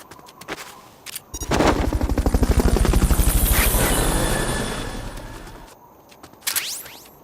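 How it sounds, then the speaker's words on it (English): A rapid rhythmic chopping from the Fulton recovery helicopter in Metal Gear Solid Peace Walker swells up loud, holds for several seconds and then fades, framed by brief game effects before and after. "Fulton recovery subject confirmed onboard helicopter."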